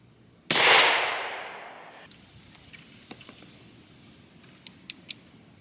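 A cap and ball black powder revolver fires a single sharp, loud shot whose blast decays over about a second and a half, followed by a few faint clicks and taps of handling.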